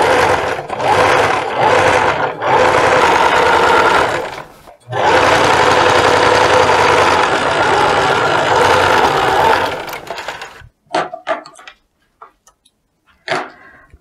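Sewing machine stitching the side seams of a dress in bursts of rapid mechanical ticking, loud and close, with a short pause midway and the run stopping into scattered handling clicks near the end.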